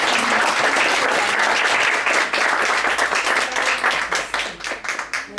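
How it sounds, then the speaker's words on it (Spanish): Audience at a feminist debate forum in Mexico applauding: dense, steady clapping that thins into more distinct individual claps toward the end, fairly near and moderately loud. "Gracias por el aplauso."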